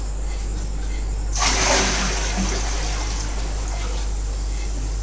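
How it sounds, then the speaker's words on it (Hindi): Hot water poured at night, a sudden broad splashing gush starting after a brief pause and continuing steadily to the end over a constant low hum, close and fairly loud. "तुम्हारा मामा डाला गर्मा पानी"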